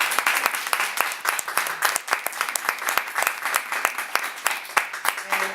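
An audience at a doctoral dissertation presentation claps steadily, a dense crisp patter of many hands with some individual sharp claps and a few voices beneath.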